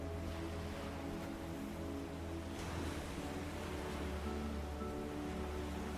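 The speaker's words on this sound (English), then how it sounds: "The constant back and forth of the waves." Ocean surf washes steadily onto a shore, a continuous broad rushing roar with gentle surges, heard alone without voices.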